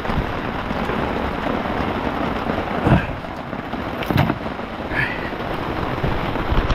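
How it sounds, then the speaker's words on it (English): Heavy rain pours steadily outdoors at a campsite, a constant hiss of falling water with a few brief louder bumps, close and moderately loud, with no voices. "it's raining pretty hard."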